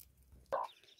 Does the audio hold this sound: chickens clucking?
yes